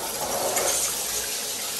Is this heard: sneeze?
no